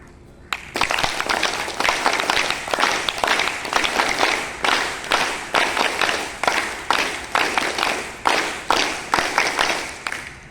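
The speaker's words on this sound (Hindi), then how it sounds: "श्रद्धेय रंजित सर हैं, विशिष्ट ताली से इनका सबसे पहले हम स्वागत करेंगे" An audience at a yoga training session in Chhatauni, Motihari, gives a rhythmic patterned applause: sharp group claps in repeated bursts, each swelling and fading, loud and close, continuing steadily for about ten seconds without talk.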